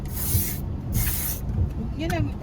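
An aerosol spray can hisses in two close, loud bursts of about half a second each, followed by a fainter puff, with a voice faintly audible underneath.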